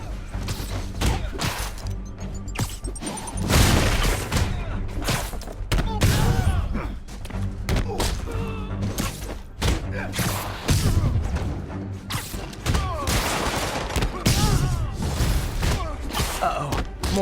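Gunfire in the Amazing Spider-Man video game: a dense, busy mix of shots, crashes and thuds runs throughout at steady loudness, with game voices talking over the action.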